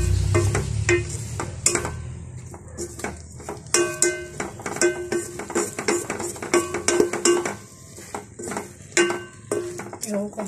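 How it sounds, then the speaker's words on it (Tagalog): Salmon belly pieces sauté in a pan, with a steady sizzle under repeated scraping and clinking of a utensil against the pan, near and fairly loud. "Tapos, igisa mo siya dyan."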